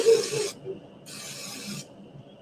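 A Misto oil sprayer releasing two short hissing bursts of oil mist into a kitchen pan while cooking egg rolls, each spray about half a second long, close and crisp, separated by brief quiet.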